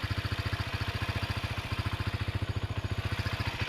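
A motorcycle loaded with copra idles nearby, a steady, even low chugging pulse of the engine that beats regularly throughout with no talk.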